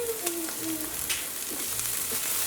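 Onions and chopped Chinese celery frying in a Cosori 6-quart multicooker, a close, steady sizzle broken by spoon scrapes and brief tonal squeaks from stirring.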